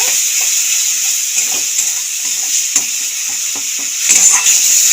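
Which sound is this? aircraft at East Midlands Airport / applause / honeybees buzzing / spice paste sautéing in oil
spice paste sautéing in oil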